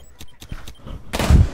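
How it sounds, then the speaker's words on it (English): Gunfire crackles in an esports match, a few sharp, separate shots followed by a louder, denser burst of firing close by. "It does look like you're just going gunfire back and forth."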